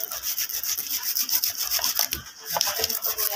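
A hand saw works through a hard piece in quick, rasping back-and-forth strokes. The sound is close and steady over about three seconds, with faint voices in the background.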